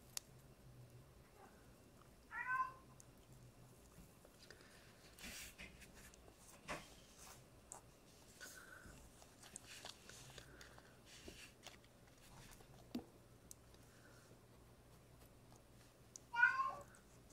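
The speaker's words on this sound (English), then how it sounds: "Don't mind my cat." A cat meows a few times in a quiet workshop during soldering work, short distinct calls near the start and end with faint clicks and handling noises between.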